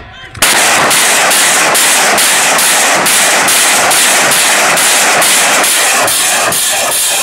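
A 130 mm artillery rocket firing demonstration by an artillery training center, a loud continuous roar of launches with regular pulsing bursts roughly every half second, powerful and sustained throughout.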